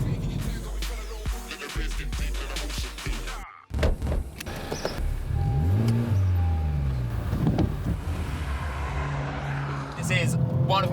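A Honda Civic Type R hot hatch is on the move, with a steady engine and road rumble throughout, a brief dropout, then rising and falling revs; a voice speaks over it in places.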